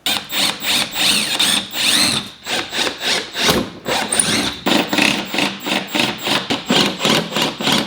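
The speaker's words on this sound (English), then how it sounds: "I can go ahead and drill out the last 3 holes" Repeated bursts of a power drill whirring through material while mounting a rear mud flap on a C6 Corvette, each lasting about a second with brief pauses between, loud and close.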